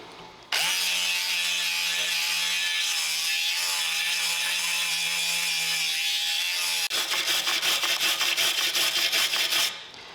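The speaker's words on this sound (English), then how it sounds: "Stainless steel wire brush." A stainless steel wire brush scours metal in a long, loud, steady scrubbing hiss. It then shifts to rapid back-and-forth rasping strokes before stopping, close up and with no voices.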